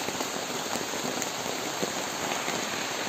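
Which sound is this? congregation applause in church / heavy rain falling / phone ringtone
heavy rain falling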